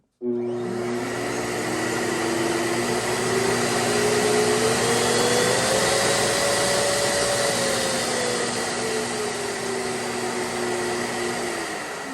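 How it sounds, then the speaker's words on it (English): A Festool dust extractor vacuum switches on and runs, its motor whine jumping in abruptly and holding a loud, steady drone with a pitch that drifts slightly up then settles. "So if you click the manual button, it will turn the vacuum on, and I'll do that real quick to show you."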